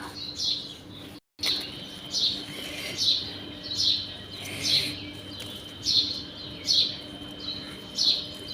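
Bright bird chirps repeat at an even pace, about one every second, over a quiet steady background hum.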